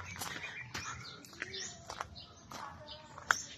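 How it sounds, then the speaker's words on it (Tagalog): Many birds chirp and call around the old houses of a hacienda, with scattered bright tweets of moderate distance, mixed with footsteps and people talking quietly. "Daming birds."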